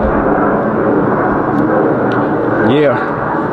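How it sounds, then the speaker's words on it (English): An airplane roars overhead, a broad loud rumble that swells near the end while a voice talks beside it. "Now I'm trying to let this plane go."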